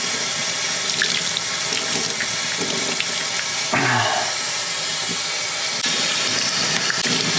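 Wet rabbit pelts squeezed by hand during the first pickling soak, giving continuous splashing, dripping and trickling water that runs steadily throughout, with a brief louder gush midway.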